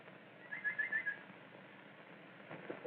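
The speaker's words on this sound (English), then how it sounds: "Do listen. The nightingale." A nightingale sings in a short run of bright whistled trills, faint and somewhat distant, followed by quiet background noise on an old narrow-band film soundtrack.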